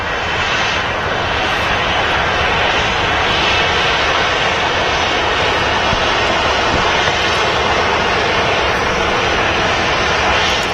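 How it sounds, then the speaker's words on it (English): A 13-year-old Ryanair Boeing 737-800 taxis past at Manchester Airport, its jet engines giving a loud, steady, broadband roar that holds close and unbroken throughout. "Ryanair 737-800 series aircraft taxiing past us."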